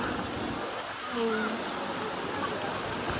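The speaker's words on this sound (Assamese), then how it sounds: "বৰষুণ যাক লাহে লাহে কৰি পূৰা ডাঙৰ ডাঙৰ হৈ আহি আছে দেখিছে" Heavy rain falls outdoors at Kamakhya temple during the Ambubachi Mela, a dense steady hiss of drops that goes on throughout while a voice speaks faintly beneath it.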